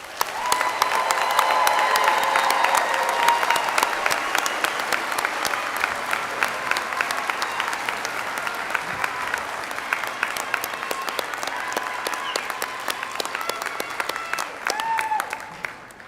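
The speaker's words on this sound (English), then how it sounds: "Will the members of the audience please join me in one final round of applause for our graduates." A large commencement audience applauds the graduates at a fall university ceremony, a long, steady wash of clapping that holds at full strength for many seconds before thinning slightly near the end.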